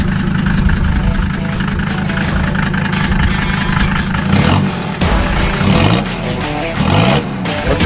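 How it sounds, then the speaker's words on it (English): A Mercedes diesel engine runs close by, a steady low idle with a few bursts of revving, while people talk over it. "it's diesel. You wanna hear it?"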